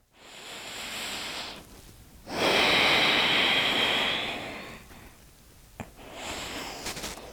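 Slow, deep breathing held in a straight-legged yoga forward fold: long, airy breath swells close to the microphone, one stretching loud and steady before easing off, with no talking.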